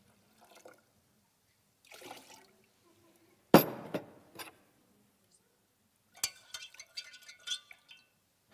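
Liquid is poured from one glass into another during a chemistry demonstration, with sharp glass clinks and short splashy bursts of pouring separated by quiet pauses, close and fairly clear.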